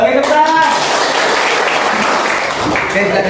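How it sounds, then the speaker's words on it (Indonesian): Students in a high school classroom break into applause together, a dense wash of clapping that fills the room, with a few voices faintly audible under it. "Oke, tepuk tangan."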